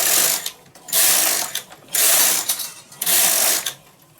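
A knitting machine carriage knitting rows of yellow yarn sweeps back and forth in loud rasping, clattering passes, roughly four strokes separated by brief quieter pauses.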